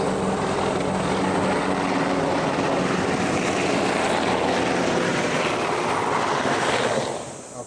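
Helicopter passing over a mid-summer garden, its rotor and engine noise loud and continuous at close range before starting to fade near the end.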